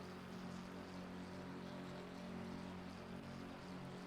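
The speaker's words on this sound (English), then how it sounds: "I can hear one car that's just not ticking over. It's like a high rev." A British GT3 race car sits in the Donington pit lane holding a high, steady rev, a continuous droning engine note that hums evenly throughout without rising or falling.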